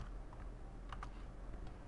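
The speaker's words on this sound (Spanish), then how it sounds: "Ya puedo meter ese dato con el teclado" Keys tap on a computer keyboard while a number is entered into a C++ menu program. A few quiet, close clicks cluster together, with steady background hiss and no speech.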